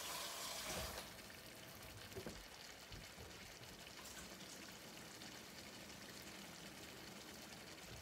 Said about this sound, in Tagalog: Lagyan ko pa yan ng tubig.